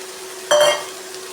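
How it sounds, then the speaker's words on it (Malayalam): Cooked rice goes into a pan of tomato mixture and is stirred, giving one brief, sharp scrape-and-sizzle burst over a faint steady hum, then fading quickly. "ഇതിനകത്തേക്ക് നമുക്ക് ഇനി വേവിച്ച് വെച്ച ചോറ് ചേർക്കാം"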